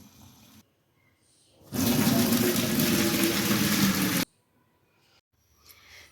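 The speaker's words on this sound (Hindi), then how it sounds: "शलजम को एक दो बॉयल आ गए हैं, अब इसे स्ट्रेन कर लेते हैं।" Water from boiled turnips being poured off through a strainer, a loud steady gushing pour of about two and a half seconds set between quiet stretches.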